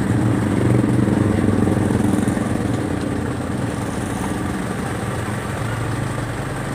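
Cold engine of an Isuzu Crosswind being revved slightly above a low idle, a steady, close droning hum that holds even throughout, with no voices.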